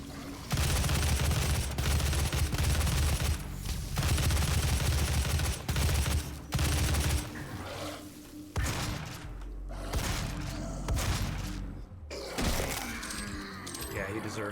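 DOOM 2016 combat with rapid, loud bursts of gunfire and cracking impacts, dense at first and then more broken, while a voice talks over it.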